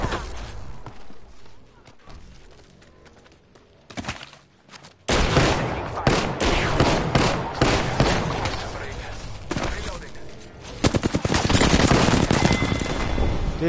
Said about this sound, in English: I'm taking shots.